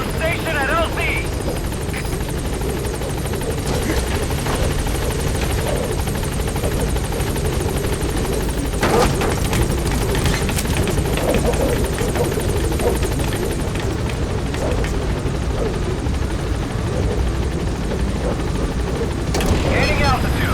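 The B-Quad helicopter in Metal Gear Solid V arrives at a landing zone with a loud, continuous rotor roar and engine whine, and voices speak over it.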